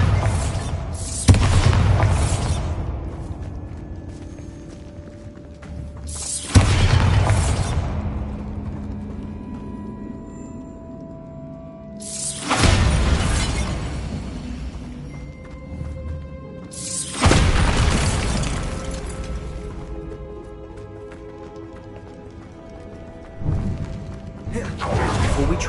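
Several booming spell blasts from a Harry Potter video game, Bombarda, go off at intervals, each a loud broadband burst that decays into a rumbling tail over game music and ambience.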